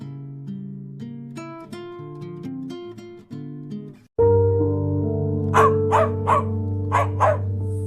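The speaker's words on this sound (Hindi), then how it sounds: "लगातार भौंकता है" A village dog barking over and over, several loud sharp barks close by over a music background.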